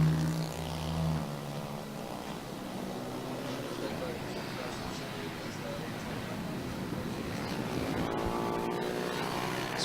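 Racing motorcycles at a Llandow veterans' race drone down the straight, a continuous engine roar from the passing field under a commentator's voice.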